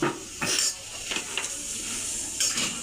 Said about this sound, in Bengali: এই বেগুনের ভেতরে আমি এগুলো চামচ দিয়ে ভরে দিলাম